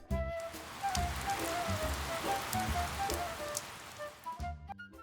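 Animated rain sound effect of water drops falling from a heavy cloud: a dense, steady patter of raindrops hitting a surface, fairly loud and continuous, thinning out near the end.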